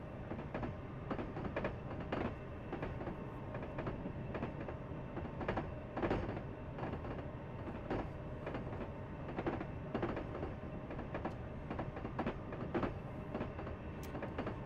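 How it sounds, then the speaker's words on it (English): Train running on track in Train Simulator Classic, a continuous rumble with regular clickety-clack beats from the rails, steady and fairly near throughout, no voices. "Love the sound of the track. It sounds really cool."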